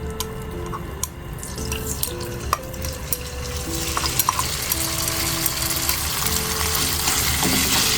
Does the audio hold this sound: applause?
no